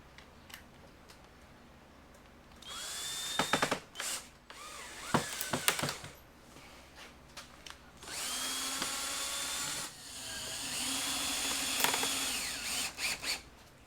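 A power drill drives a screw into pre-drilled plexiglass on a DIY watercolor board. Several whirring bursts start and stop, separated by clicks and handling noises.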